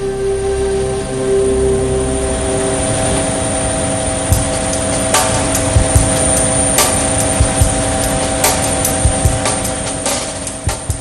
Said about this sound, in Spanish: Mi camino comienza en un viejo helicóptero Mi-17, una reliquia de la guerra rusa que se sacude mucho.